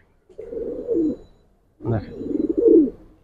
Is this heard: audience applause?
no